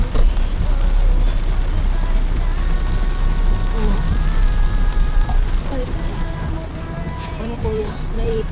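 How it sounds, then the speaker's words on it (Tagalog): Heavy rain drumming steadily on a vehicle in stalled traffic, a dense continuous hiss close up, with voices talking over it. "Traffic, ang lakas ng ulan."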